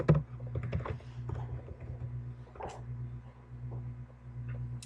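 Keys tapping on a computer keyboard in a quiet room, an irregular run of light clicks over a steady low hum.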